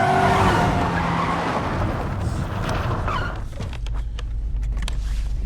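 A car's tyres skid and squeal loudly as the driver loses control on the accelerator, a sustained screech over engine roar that fades into rumbling noise with scattered clicks.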